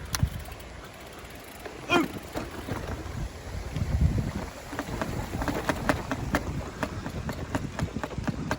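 Gusty headwind buffets the microphone while cycling, with a constant low rumble and scattered clicks and rattles over the top.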